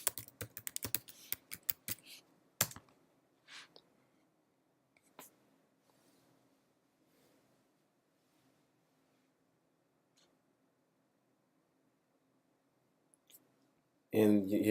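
Typing on a computer keyboard: a quick burst of close, crisp key clicks at the start, then a few scattered taps over a long quiet stretch, ending with a sudden louder noise.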